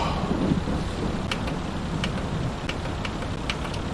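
Steady broadband rain hiss from a Farming Simulator 22 storm, continuous and fairly loud, with faint brief high crackles scattered through and no talk.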